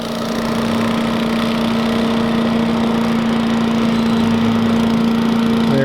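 A small mini bike engine runs steadily at a constant drone on an outdoor abandoned racetrack, with a strong steady tone and no noticeable change in pitch throughout.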